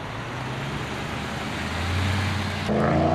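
A car drives past on a road blaring music. Low traffic rumble swells as it nears, then the music's tones come in clearly near the end, moderately loud and alone.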